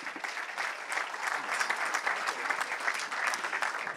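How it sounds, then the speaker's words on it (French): Sustained, dense applause from an audience thanking four guests after a panel discussion at a conference event, steady and fairly loud throughout with no speech over it. "Des applaudissements nourris pour nos invités."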